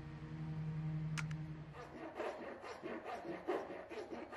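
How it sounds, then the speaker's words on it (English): A hand rasp files over the edge of a wooden handle in a series of quick rough scraping strokes, close and moderately quiet after a brief faint hum at the start. "I used a hand rasp to round over the wooden handle."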